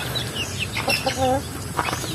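Rhode Island chickens clucking and squawking at afternoon feeding time on a farm, several nearby birds calling with a brief flutter of wings and someone talking in the background.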